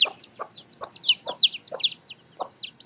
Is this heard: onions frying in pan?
no